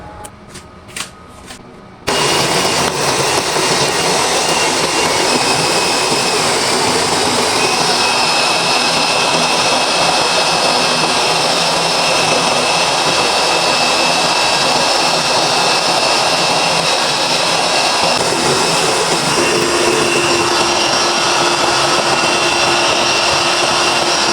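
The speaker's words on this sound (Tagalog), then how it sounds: "Tapos takpan natin at i-blend natin ng 3 minutes" A blender runs continuously, loud and close, whirring through a fruit shake of fresh milk and ice cubes after a brief quieter start with a few clicks, a steady roar with no talking.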